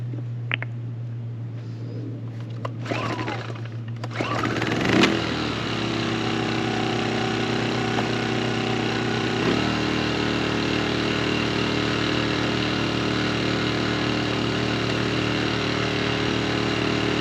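A Sportsman Gen1000i inverter generator runs under the load of a 1500 watt electric heater set on low. Its steady, close engine drone shifts and deepens as the load kicks in, with no talking.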